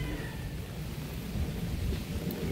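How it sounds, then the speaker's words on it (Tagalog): A steady wash of rain with a low rumbling undertone, continuous and fairly faint throughout. "Tika lang at umuulan."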